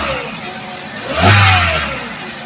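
A 2012 Hyundai Accent with a 1.6 GDi engine, after its high-pressure injectors were cleaned, idles and then revs up in a single swelling burst before settling back down, heard close up in a workshop.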